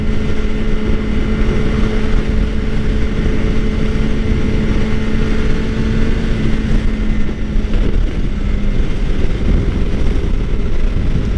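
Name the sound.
2013 Suzuki GSXR 600 motorcycle riding on highway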